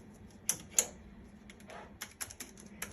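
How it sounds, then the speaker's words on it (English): Sparse key presses tapped on the keyboard of a Mindray DC-70 ultrasound machine, a few sharp clicks spread irregularly over quiet background hum, close and fairly soft. "If you type something"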